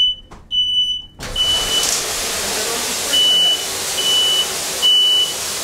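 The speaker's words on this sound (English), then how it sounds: "yeah, smoke detector activated." An electronic residential smoke alarm chirps in short, high-pitched beeps repeating at intervals over steady background hiss.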